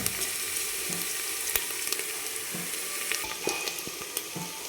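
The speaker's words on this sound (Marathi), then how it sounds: "हे कांदा छान आपल्याला एकदम मस्त तळून घ्यायचा आहे" Chopped onion frying in hot oil for a mutton curry, a steady close sizzle with scattered crackles and a few spoon scrapes, no voices.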